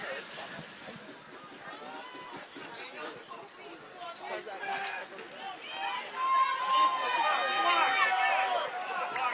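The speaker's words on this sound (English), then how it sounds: "Hear the crowd encouraging the Warriors to go for it." Football stadium crowd at a Canadian university game between the Waterloo Warriors and Windsor Lancers, a steady babble of many voices rising louder toward the end, with scattered shouts over the continuous hubbub.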